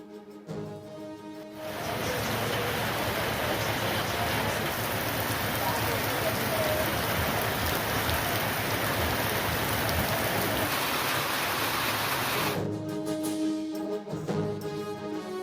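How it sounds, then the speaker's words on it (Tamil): Heavy summer rain pours steadily in Nagapattinam during a thunderstorm, a dense, loud roar that starts abruptly and runs unbroken for about eleven seconds before cutting off. "நாகப்பட்டினம் மாவட்டத்தில் இடி மின்னலுடன் வெளுத்து வாங்கிய கோடை மழை."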